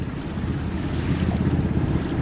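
A boat heads out of Stromness harbour bound for Scapa Flow, with a steady low engine rumble mixed with wind and water noise, continuous and fairly loud throughout, and no voices.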